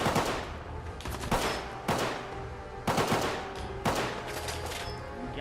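Gunfire in a video game set in the Commonwealth: five loud, evenly spaced shots about a second apart over a steady noisy background, with no talking.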